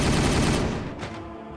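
A dense fusillade of gunfire in the Warhammer 40,000 Regicide video game, Dark Angels against Ultramarines, loud at the start and tapering off over a second and a half.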